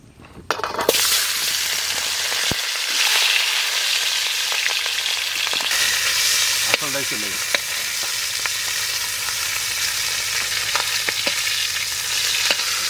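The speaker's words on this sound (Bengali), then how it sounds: "ইলিশ মাছ ভাজার জন্য সর্ষের তেল" Steady, loud sizzling of hilsa fish frying in hot mustard oil in a kadai, a continuous crackle with occasional clinks and scrapes of a utensil.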